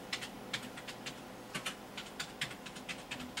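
A computer keyboard clatters with quick, close keystrokes in an uneven rhythm while a command is typed, with no voices.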